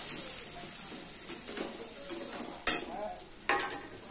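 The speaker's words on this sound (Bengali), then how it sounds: "দিয়ে মশলাটাকে আবার একটু ভাজা ভাজা করবো।" Ground spices (cumin, coriander, chilli and turmeric powders) frying in a pan while being stirred, a soft continuous sizzle broken by several sharp scraping strokes of the spoon.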